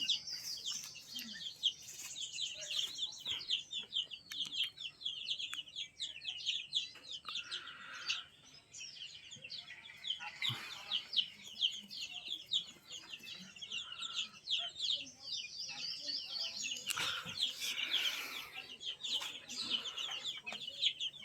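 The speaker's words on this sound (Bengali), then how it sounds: "মুরগি" A flock of Sonali chickens with their chicks clucks and peeps continuously for the whole stretch, with dense, overlapping high calls close by.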